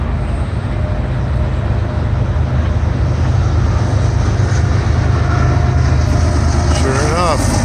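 Freight train with a distributed power unit locomotive rumbling steadily near the Big Four Bridge in Sidney, a loud continuous low roar of rolling cars with a rising horn-like tone near the end.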